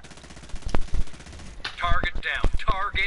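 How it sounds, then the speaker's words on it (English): Rapid automatic gunfire from a first-person shooter on PS4, with enemy hostiles shooting, a sharp burst of repeated shots under steady game background noise and a voice talking over it. "I hear gunfire."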